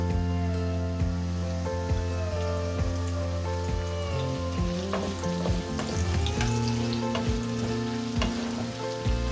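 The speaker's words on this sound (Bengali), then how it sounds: "এবার আমি পেঁয়াজগুলোকে লাল করে ভেজে নেব।" Chopped onions fry in a little oil for a chicken roast, giving a loud, continuous close-up sizzle with occasional clatters from stirring. No voices are heard.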